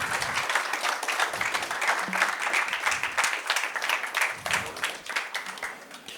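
A forum audience applauds to welcome Zulfikar Ali Bhutto Jr. to the stage, a sustained patter of many hands clapping in a room, fairly close and steady for about six seconds.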